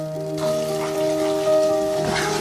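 A spice masala with garlic-ginger paste and green chili paste fries in oil, giving a continuous close crackling sizzle like rain over a steady background hum.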